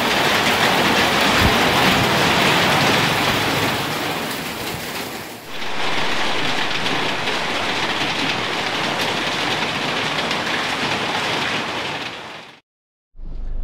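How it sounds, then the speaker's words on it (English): Steady heavy rainfall in Udon Thani, Thailand, a loud continuous hiss with a brief dip midway before cutting off abruptly near the end. "enjoy the beautiful rain"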